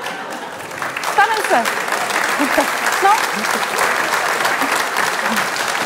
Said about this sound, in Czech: A jo, jo, tak zatleskali.